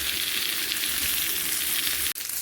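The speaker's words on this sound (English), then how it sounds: "I'm going to be using its own juices to keep basting it with" Lahori charga chicken sizzles steadily and loudly while being basted with its own juices, a dense continuous frying hiss with a brief break near the end.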